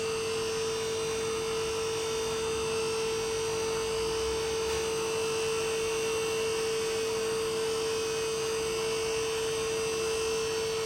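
An AAQ 3000kg hydraulic scissor car lift in a shed runs with its hydraulic valve open to bleed air from the system, giving a steady, unbroken mechanical hum with a firm tonal drone throughout and no voices.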